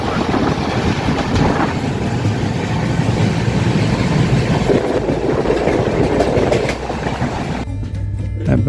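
A moving passenger train rumbles loudly and steadily with rhythmic clickety-clack and rattling from close by, a continuous roar that dips slightly near the end, with no talking.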